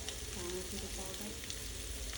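Diced potatoes spiced with turmeric and coriander-cumin powder sizzle steadily in a hot pan while being stirred, a close, continuous frying hiss with faint scraping.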